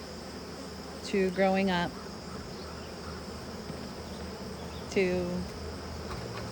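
Honeybees hum steadily around brown capped brood in a hive, with a low continuous drone running throughout and a voice speaking briefly over it twice.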